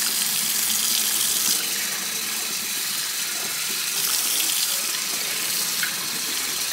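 A tap runs steadily as walnut-leaf-dyed fabric is rinsed under the stream in a sink. Water gushes and splashes continuously and fairly loud, with slight swells partway through and no voices.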